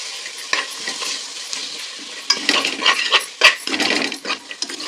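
Ginger garlic paste sautés in a pan with a soft underlying sizzle, broken by irregular scraping and clanking strokes of a utensil stirring it. The strokes come nearby and grow busier toward the end, with no talking.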